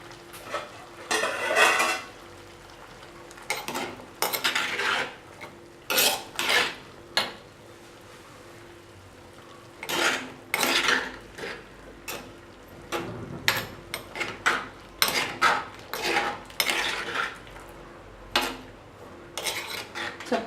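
Jackfruit seeds being stirred in a metal pan for a Kerala mezhukkuvaratti stir-fry, a close series of scraping, clinking strokes of a spoon against the pan in irregular bursts, with a faint sizzle between them.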